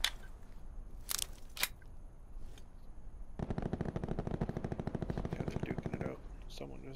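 Rapid bursts of automatic gunfire in a battle royale shooter game, a few sharp shots first, then a sustained stuttering volley for several seconds, fairly close and loud.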